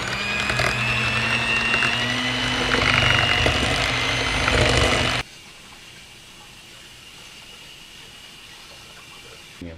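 Mixer beaters are rinsed under a running kitchen tap, giving a loud, steady splash and hiss of water for about five seconds before it stops suddenly, leaving quiet room tone.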